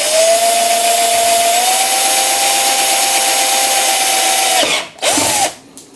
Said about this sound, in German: Das müsste jetzt eigentlich als Ansatz reichen, um da durchbohren zu können.